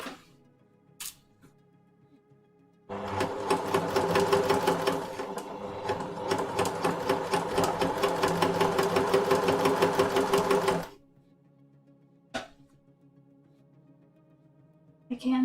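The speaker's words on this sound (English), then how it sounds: "I'll just try to smoothly stitch towards my my pins." A sewing machine stitches a pin-tuck shirt in one continuous run of about eight seconds, a rapid even mechanical whir up close, with faint clicks and handling sounds before and after.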